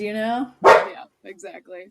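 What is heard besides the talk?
dog barking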